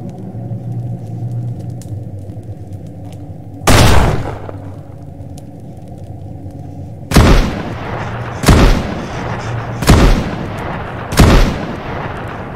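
Five loud, sharp gunshots ring out in the survival video game Mist Survival, spaced irregularly over a low rumbling background, each followed by a short decaying tail.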